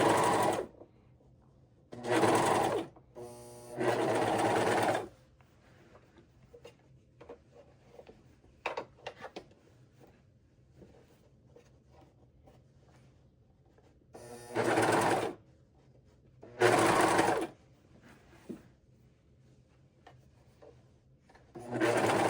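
A serger stitches a shirt sleeve in short loud bursts, running about a second or two at a time, with quiet pauses and faint handling noises between runs; no talking.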